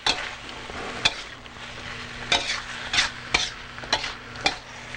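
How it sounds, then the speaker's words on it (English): Scallions stir-fried in a hot pan, an ongoing sizzle punctuated by repeated sharp clacks and scrapes of a utensil against the pan at an irregular rhythm, close and clear. "Then we're going to throw in the scallions. Stir fry them a little bit."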